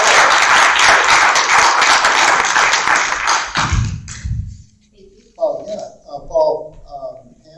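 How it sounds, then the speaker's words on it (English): An audience at a county candidate forum gives a short burst of brisk applause that ends abruptly, followed by a few scattered claps and then a person speaking nearby. "Let's give a round of applause."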